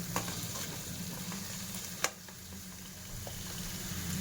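Drumsticks (moringa pods) being stirred into a frying paste for an egg and dry fish curry, with a steady sizzle and occasional light scrapes and clicks of a spoon against the pan.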